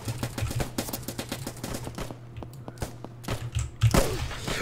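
Rapid exchange of gunfire in the Roblox trench-warfare shooter Trenches, with dense bursts of shots, scattered single reports and a sharp close blast near the end, all over a steady low hum.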